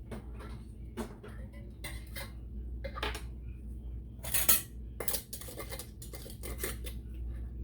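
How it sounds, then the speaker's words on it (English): Metal lids set onto glass canning jars filled with ham and 15 bean soup, a series of sharp clinks and taps at an uneven pace over a low hum. "Put your lids on."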